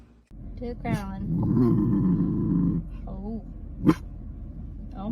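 A puppy growls at another dog outdoors after getting out of a car, a low rumbling growl lasting over a second, with a person speaking around it and a brief sharp yelp-like sound near the end.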